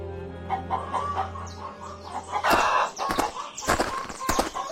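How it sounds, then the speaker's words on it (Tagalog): Farmyard chickens cluck and squawk in busy bursts, with a rooster-like call rising among them, close and lively against a low background hum. "ang dami-dami niyong manok"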